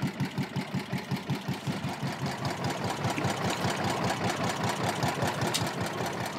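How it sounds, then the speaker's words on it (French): The engine of a small fishing boat runs with a steady, rhythmic chugging pulse over a noisy, rushing background. It is fairly close and continuous, and no one speaks. "Tu peux mettre le moteur qu'on avance?"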